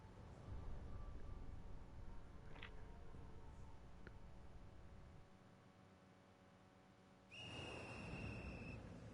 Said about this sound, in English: As the monstrous little raincoat visitor blows his whistle